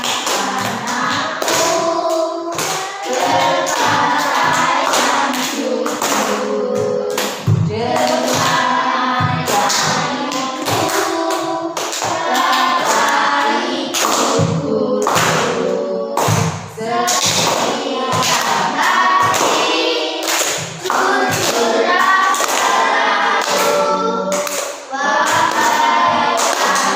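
Steady rhythmic hand clapping keeps time with group singing of a children's song in a classroom lesson, the claps sharp and regular beneath the voices throughout.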